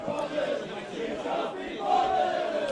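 Frustrated South Melbourne football crowd at an away NPL Victoria match against Oakleigh Cannons, a massed roar of shouting voices at a distance, swelling toward the end, with faint commentary underneath.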